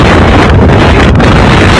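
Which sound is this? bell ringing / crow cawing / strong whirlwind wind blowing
strong whirlwind wind blowing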